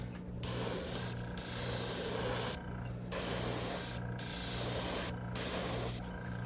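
An airbrush sprays paint in a rose pattern in several steady hissing bursts separated by short pauses, close and alone over a faint low compressor hum.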